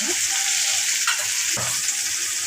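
Chopped tomato and onion sizzle loudly in hot oil for a spicy chicken masala, a dense, steady frying hiss with a couple of brief stirring scrapes, close and without talk.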